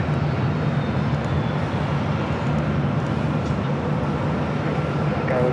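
Southwest airliner taking off from runway 24 left at LAX, a steady broadband jet engine roar that holds constant and fairly loud throughout, with faint radio chatter blended underneath.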